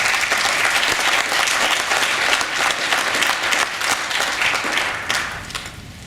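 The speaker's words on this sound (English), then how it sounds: "Let us applaud him." An audience applauds, a dense, sustained wash of many hands clapping that fades slightly toward the end.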